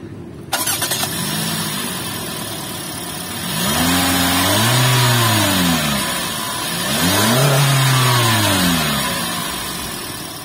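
A Daihatsu Sirion facelift with a 1300 cc engine cranks and catches, then settles into idle before two strong revs rise and fall, heard up close with no talk.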